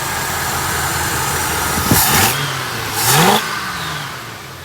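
A 1966 Ford Galaxie with a 7-litre engine idles steadily with a low, even rumble, broken by two brief throttle blips that rise and fall in pitch, heard close and clear without talk.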